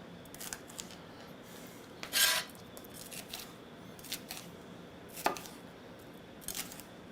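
A knife cuts food into thin slices in a kitchen, giving a few crisp, close slicing strokes spaced apart, one louder cut near the start and another later, over quiet room tone.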